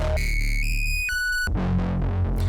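A Novation Circuit Mono Station synthesizer plays bright, buzzy sustained tones that step between pitches, then shifts into a denser, rhythmic bass-heavy pattern, loud and alone.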